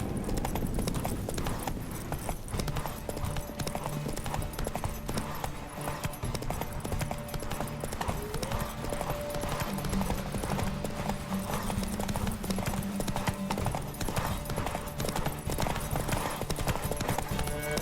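A horse's hooves pound rhythmically in a steady, fast clip-clop as it gallops in The Witcher 3: Wild Hunt, loud and close throughout, with faint game ambience beneath.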